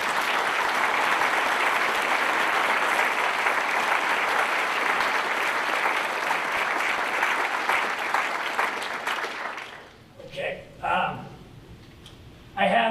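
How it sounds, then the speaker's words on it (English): Applause from a large audience at a Marine Expeditionary Force change of command ceremony, honoring the spouses; dense, steady clapping fills about nine seconds, then fades into a few scattered claps and quiet. "if I could just give a round of applause for that too"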